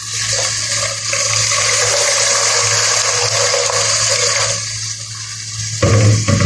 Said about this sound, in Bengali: দিয়ে দেবে সামান্য পরিমাণ পানি,